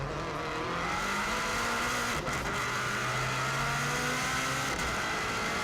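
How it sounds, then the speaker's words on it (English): A rally car brakes hard and downshifts into second gear on an Isle of Man road approaching Ramsey Parliament Square. The engine note drones loud and close, its pitch stepping down as gears change, with no talk. "real hard braking all the way down into second gear for Ramsey Parliament Square"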